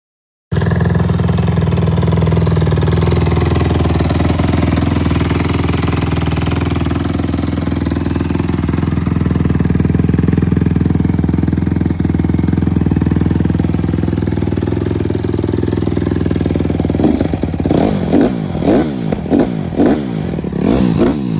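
A Honda CRF150R dirt bike that was just fixed, with its valves redone, idles steadily and loudly up close for a long stretch, then breaks into a series of sharp throttle revs near the end.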